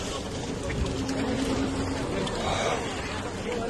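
Boats shifting about on water, heard as a steady broadband wash of water and hull noise with a faint low hum, fairly loud and continuous.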